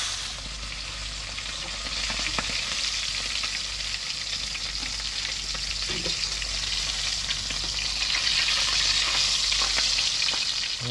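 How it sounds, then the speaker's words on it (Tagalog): Fish caught fresh while spearfishing sizzle and fry steadily in a hot pan, a dense continuous crackle that holds at an even level for the whole stretch, with occasional stirring and no talk. "tapos na natin prito"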